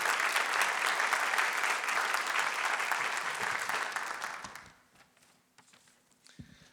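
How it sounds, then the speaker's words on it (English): Audience applause for award winners at a community report event, a dense sustained clapping crowd for about four seconds that fades out into a few scattered claps and quiet room noise. "One more round of applause for all of our award winners today."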